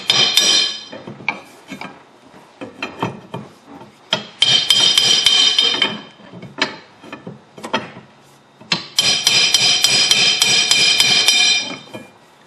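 Repeated hammer blows on metal washer tabs, bending them flat against a car's tie rod on a Chrysler 300M, ringing in irregular bursts of close, sharp metallic strikes with short pauses between volleys.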